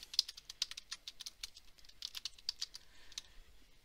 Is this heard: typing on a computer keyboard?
yes